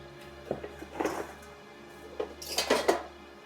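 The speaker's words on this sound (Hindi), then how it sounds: "ये बर्तन धरकाऊं घर में।" Metal pots and dishes clatter as they are handled and set down in a rural village home, with a few scattered clanks and a louder burst of clattering near the end.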